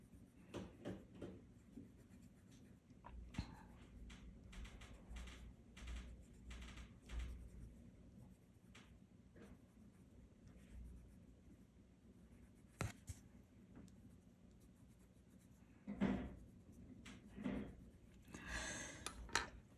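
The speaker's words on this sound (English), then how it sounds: "Because we've got our pencil handy, I'm going to go ahead and shade here." Pencil shading on paper during an ink drawing session, soft scratchy strokes in irregular bursts with short pauses, close and quiet, louder brushing toward the end.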